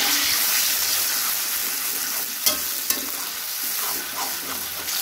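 Blended spice paste sizzles in a frying pan as it is stirred, a loud, continuous crackling hiss with a couple of sharp clinks from the utensil against the pan.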